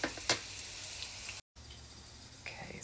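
Onion rings, made from sliced natural onions, fry in hot oil with a steady crackling sizzle throughout, broken by a brief silent gap, with a few louder pops and spatters near the start and end.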